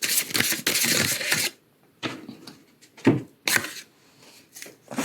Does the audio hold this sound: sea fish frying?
no